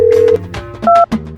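A phone on speaker dials a call, giving a string of short electronic keypad tones and beeps with small gaps between them, loud and close.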